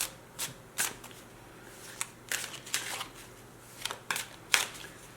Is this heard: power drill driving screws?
no